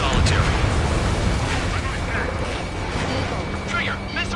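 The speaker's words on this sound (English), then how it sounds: "Missile hit." A missile explodes in an aerial combat video game, a broad rumbling roar that fills the whole stretch, steady and dense with crackling debris noise, close and loud.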